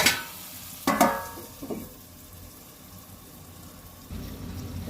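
Spiced Bhetki fish curry sautéing in a pan gives a soft, steady sizzle, broken early by a few sharp scraping and clattering stirs, then settles to a quiet hiss before swelling slightly near the end.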